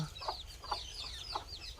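A desi hen clucks softly in a slow rhythm while newly hatched chicks peep in high, thin chirps around her, close by.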